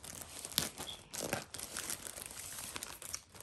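Close, crinkly rustling and tearing of plastic wrapping, with a few sharper rips among steady crumpling, no talking.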